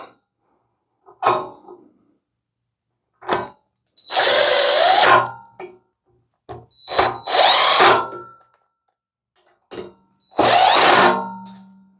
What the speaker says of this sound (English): now you can go ahead and re-add your fasteners to the standoff bracket